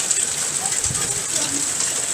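Hail drums on a car during a hailstorm in Hungary, a dense, steady patter of small impacts that fills the whole clip, with a faint voice underneath.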